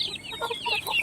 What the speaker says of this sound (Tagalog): Yan yung broodcock natin na white kelso.